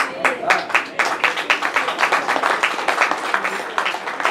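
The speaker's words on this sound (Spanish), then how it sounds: "El aplauso es para Cristo." A church congregation applauds in dense, steady clapping that sometimes falls into a loose rhythm, fairly close and loud, with voices faintly mixed in.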